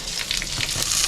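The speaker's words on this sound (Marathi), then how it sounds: "तेलामध्ये पहिला मी खडा मसाला टाकून घेते." Whole spices, star anise, cumin, cardamom, bay leaves, mace, cloves and black peppercorns, sizzle steadily in hot oil for prawn biryani, a close, continuous crackling hiss with no talking.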